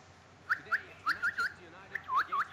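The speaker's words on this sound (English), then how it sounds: "Who's whistling here?" Short rising whistled notes from a person in a game-play setting, about a dozen chirpy phrases in quick succession, moderately close over a quiet background hum.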